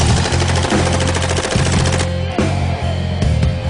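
Rapid gunfire from a combat video game, loud and close, with repeated bursts of shots in a steady rhythmic pattern, a sniper shot among them, over a constant low rumble and no voices.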